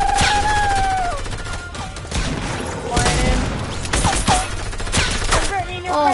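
Rocket launches and explosive blasts in a multiplayer shooter video game, loud and chaotic, with whistling streaks and repeated crashes layered over each other in quick succession, no speech.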